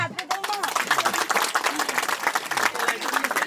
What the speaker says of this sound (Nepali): ताली बजाइदेऊ नि त